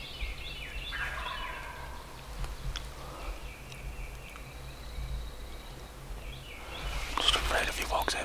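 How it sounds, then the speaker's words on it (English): A wild turkey gobbles from a ridgetop in a national forest during a hunt, a distant rattling call that rises briefly twice against quiet woodland ambience, with faint whispering nearby. "He just came to the top of this ridge and just starts gobbling."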